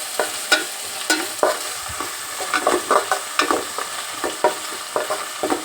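Medium-cut onions frying in oil for chicken mandi, a soft sizzle broken by repeated sharp scrapes and clacks of a spatula stirring in the pan, close up.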